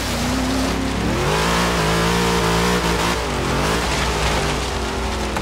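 A 1967 Ford Falcon XR GT in Forza Horizon 3 revs hard and loud, its engine pitch climbing and dipping through shifts while a hissing wash like rain or tire spray runs underneath, with no voices.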